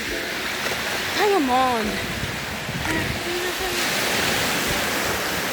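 Ocean surf rolls at a beach in a constant broad wash of breaking water, with a louder swell midway, while people talk and call out over it.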